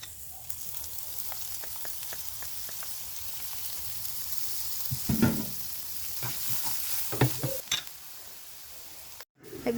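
Onion, garlic and butter sizzle and crackle in a pan for a shrimp Cajun dish, a steady close frying hiss broken by spoon scrapes and clinks of stirring.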